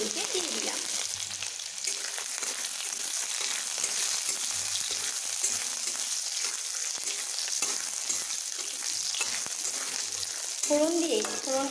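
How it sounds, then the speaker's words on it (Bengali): Whole cumin seeds, garlic, chili and grated ginger fry in hot oil with a steady sizzle and occasional stirring clinks, and a faint voice comes in near the end. "ফোড়ন দিয়ে ফোড়নটিকে বেশ ভালোভাবে আমি এভাবে ভেজে নিচ্ছি"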